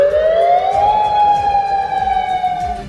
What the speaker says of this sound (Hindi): अलास्का के कोडियक शहर में सायरन बजने लगा